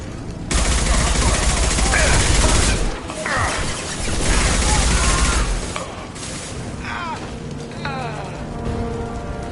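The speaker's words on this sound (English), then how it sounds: "Blue Suns and Vorcha shooting anything that moves." Blue Suns mercenaries and Vorcha exchanging fire in the Mass Effect 2 video game: dense bursts of automatic gunfire and crackling shots in rapid volleys, loud, with quieter stretches and scattered effects between the bursts.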